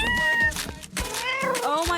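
A cat meows several times in close, loud, drawn-out calls with short pauses between, and a voice talks over part of it.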